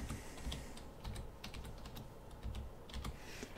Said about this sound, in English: Now I'm going to put in the password.